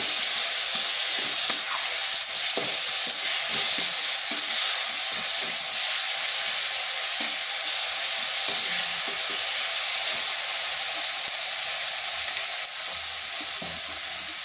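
A magic spice mix with black pepper powder frying in a pan, a loud, even hissing sizzle that holds steady throughout, with faint stirring scrapes underneath.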